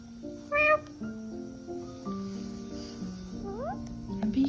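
A single short meow rises briefly near the start, set against steady tonal background sound and faint activity.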